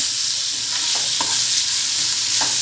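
Minced meat frying in a pan as chopped onions go in, giving a steady close hiss of sizzling oil with a few soft stirring scrapes.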